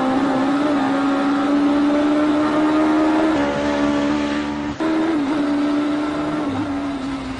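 A Promotive front-wheel-drive R1 Mini race car drives a timed lap, its engine droning loud and steady from inside the cabin, with slight shifts in pitch as it changes gear and a short dip midway.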